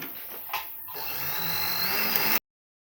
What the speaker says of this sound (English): So you sew this fringe inside.